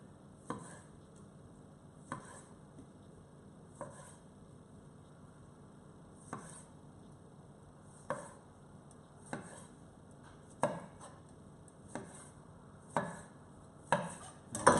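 Kitchen knife halving mini San Marzano plum tomatoes on a chopping board, a series of crisp cuts at a slow irregular pace that speeds up toward the end, close and alone.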